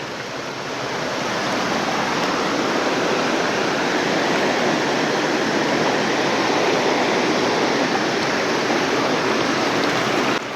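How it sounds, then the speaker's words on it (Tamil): Fast water rushes steadily along the channel of the Mathur aqueduct in Kanyakumari, a loud, constant broadband roar with no pauses or voices. "தண்ணியை பாருங்கள், அப்படியே கண்ணாடி மாரி ஓடிட்டு இருக்கு பாருங்கள்."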